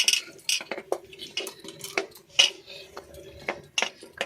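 Chopped knol-khol pieces are tipped into a cooking pot for vegetable sambar, giving a run of close, irregular clatters and knocks of vegetables and metal utensils against the pot.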